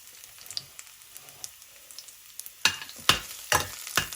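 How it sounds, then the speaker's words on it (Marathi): Garlic and curry leaves crackle in hot oil as a tempering for a Malvani pomfret curry. A quiet, faint sizzle swells into several loud, sharp spattering bursts near the end, heard close and alone. "मी लसूण आणि कढीपत्त्याची फोडणी देते"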